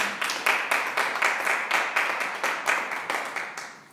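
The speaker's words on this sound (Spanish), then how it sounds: "Denle un aplauso fuerte." A church congregation claps in unison, with about a dozen crisp, evenly spaced beats that form a steady rhythmic applause.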